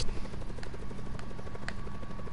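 A helicopter in the video game Black Ops 4 Blackout drones steadily with a rapid rotor chop, loud and continuous throughout, with no talk over it.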